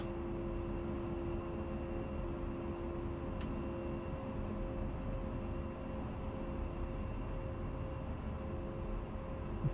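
An A-10 jet in a flight-sim game runs its engines before takeoff, giving a steady, droning roar with a constant whine on top that holds unchanged throughout.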